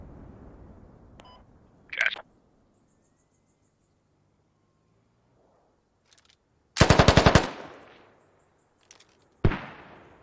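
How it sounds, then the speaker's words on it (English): Squad gameplay with scattered loud gunfire: a rapid automatic burst mid-clip and a few single sharp reports with echoing tails, separated by near silence and faint ambient insects; whether any of them is a mortar is unclear. "Oh yeah, that was our mortar."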